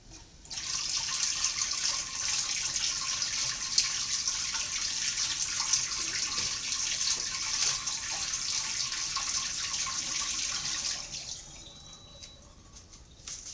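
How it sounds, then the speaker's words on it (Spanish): Water pours steadily for a flash photography experiment, a continuous bright splashing stream lasting about ten seconds before cutting off, close and alone, followed by a brief high electronic tone. "Vale, ponemos el agua."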